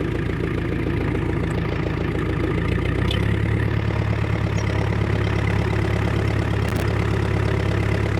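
A homemade compost spreader is pulled by a vehicle on an off-grid farm, its engine running steadily at a close, low rumbling idle that deepens slightly as the load starts moving, with faint clanks.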